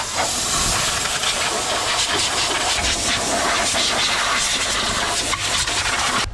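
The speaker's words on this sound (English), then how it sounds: "Got a little Harbor Freight pen blower here." A small Harbor Freight pen blower pushing a steady, close, continuous hiss of air that holds at an even level from start to finish.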